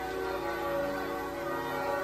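Sustained ringing of church bells, a dense wash of overlapping metallic tones holding steady throughout.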